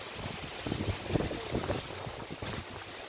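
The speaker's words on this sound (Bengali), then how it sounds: "আমাদের এখানে খুব ঝড় হচ্ছে" Gusty storm wind buffets the microphone in rough, rumbling bursts, rising and falling over a few seconds outdoors.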